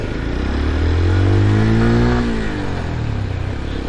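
A small Papio 125 motorcycle engine revs up loud and close, its pitch climbing to a sustained high buzz before easing back down to a rough idle, with no talk over it.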